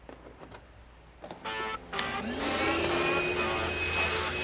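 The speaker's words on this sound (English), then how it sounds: "I vacuum bird crap." A vacuum cleaner starts up and runs steadily inside an abandoned airplane, sucking up bird droppings left by nesting birds; the motor whine builds after a few bumps and clatters, then holds a loud, even drone.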